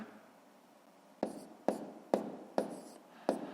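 Numbers are written on paper during a fifth-grade column multiplication, five sharp, close pen strokes at regular intervals over a quiet room background, with no talk.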